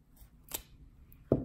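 Scissors snip a small triangle into the end of a ribbon for a door-hanger bow: two quick, quiet cuts, one faint and one sharper near the end, with no talking.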